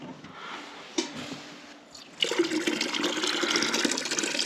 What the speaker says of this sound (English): We just fill the bucket up from the tank on the roof.